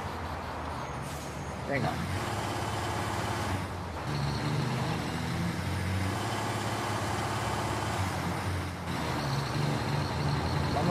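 A Dakar Rally truck drives alongside, its heavy engine a steady, loud rumble with a few gear changes and surges, while a voice briefly speaks over it.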